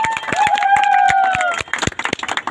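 Clapping at a pigeon-keeping event as a guest ustad is welcomed, with sharp, scattered claps over a crowd while a voice sings or calls out on top.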